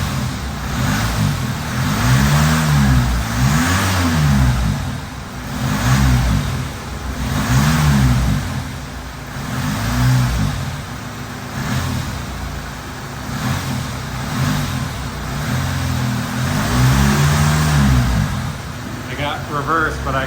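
A car engine revs repeatedly in loud, rising and falling surges while the transmission slips and barely engages, with a person talking over the engine noise throughout.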